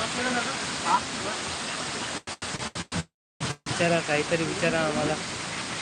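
Steady rain pours down in Shirpur as a broad, constant wash of noise, cut by a few abrupt dropouts partway through, with a person talking over it.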